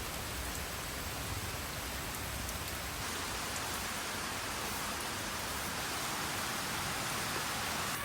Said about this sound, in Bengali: এই বৃষ্টির মধ্যে খিচুড়ি খাওয়াই ভালো